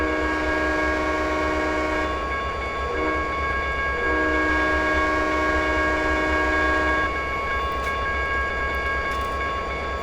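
A heavy freight train in the Trainz 2010 simulator game approaches a crossing, its horn blaring in a loud, steady chord over the constant rumble of the locomotive, with a short dip in the horn midway.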